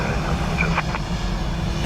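A Ryanair airliner taking off from runway 10 right at Dublin Airport, heard as a steady, broadband engine roar at a distance that holds constant throughout.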